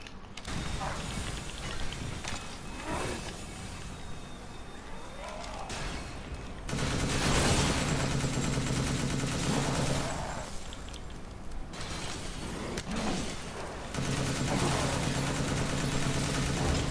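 Gunfire and a grenade blast inside a cramped factory level of the video game Resident Evil Village, loud bursts of shots and impacts over a continuous low game rumble, with a voice talking in between.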